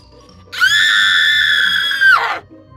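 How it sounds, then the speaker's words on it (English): A loud, startled scream in a shrill, cartoonish voice, sustained for about two seconds and then cutting off sharply, with nothing else heard around it. "Applebloom shouted back, startled half to death."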